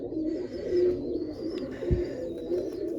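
Blue pigeons coo in a low, throaty, repeated rumble, close by and steady, with faint chirps and a brief thump midway.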